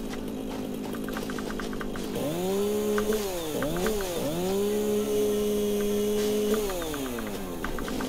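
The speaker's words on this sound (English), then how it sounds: "the chainsaw could be a lot louder" A chainsaw motor in the video game Satisfactory revs and whines up and down repeatedly, droning steadily in the foreground.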